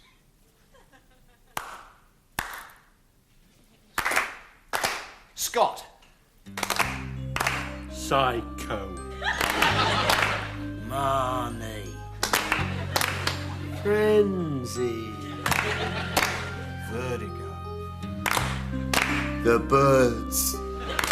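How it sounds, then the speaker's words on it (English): A person claps in a steady two-beat pattern with a pause between pairs, close and loud, first alone and then continuing under spoken film titles and background music. "I'll start clapping. 2 claps and a pause."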